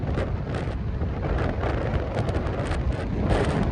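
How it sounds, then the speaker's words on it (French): Strong seaside wind buffets the microphone in a steady, loud, broadband rumble with gusty surges throughout, and no voices are heard. "Mais il y a un vent de dingue."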